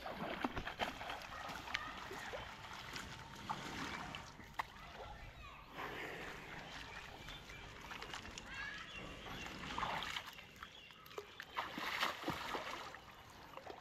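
Buffaloes bought at a market splash and dive in water, with broad sloshing and splattering continuing throughout under nearby voices talking.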